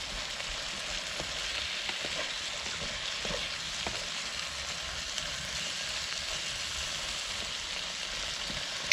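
Chilli chicken frying in a hard-anodised Trangia 27 series pan on an outdoor camp stove, a steady close hiss and sizzle running the whole time with a few faint stirring taps, no voices.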